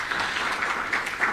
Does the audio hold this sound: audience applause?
yes